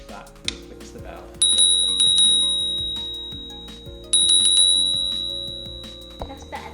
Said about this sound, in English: give you a chance to hear what the bell's like